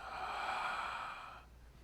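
A slow, deep exhale during a standing yoga stretch toward the feet, a soft breathy rush that swells and fades over about two seconds, close and quiet with no talking.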